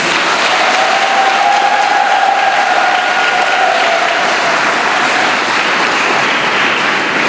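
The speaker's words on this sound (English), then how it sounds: "So give them now a big round of applause." Loud sustained applause for students at a South African science olympiad awards ceremony, a dense roaring crowd clap held steadily throughout with a faint whistle or cheer mixed in.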